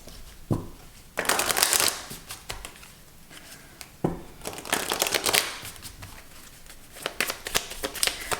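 Tarot cards are shuffled up close in repeated riffling bursts, each a quick papery flutter separated by brief pauses, with a few soft taps of cards being squared; no voices.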